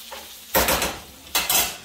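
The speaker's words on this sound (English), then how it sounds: "Let me give this bacon a stir real quick." Bacon being stirred in a pan during breakfast cooking: two loud bursts of metal utensil scraping and clattering against the pan, separated by a quieter stretch, with no talk.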